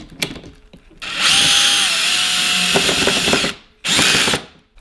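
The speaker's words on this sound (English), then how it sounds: "we're gonna go ahead and screw this in, and remember, we're gonna keep our drill on the lowest setting" A cordless power drill on its lowest setting drives a screw into a Kronos Bluetooth smart lock, whirring loudly in two bursts, a long one of a few seconds then a shorter one, with clicks in between.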